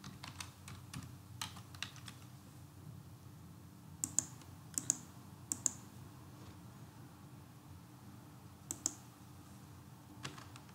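Computer keyboard typing while entering a search in Tekla Structures software: sparse, faint key clicks in short bursts and single taps over a low steady room hum, with no voices.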